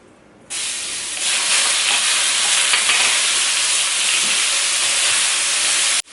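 Liver sautéing with garlic and onion for pancit chopsuey gives a loud, steady sizzle. It bursts in after a quiet half second and holds strong and continuous, with faint stirring, until it cuts off at the end.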